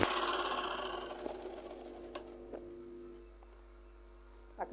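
A sewing machine stitches fabric in a quick mechanical whirr that fades down, followed by a few sharp isolated clicks and taps in a quiet room.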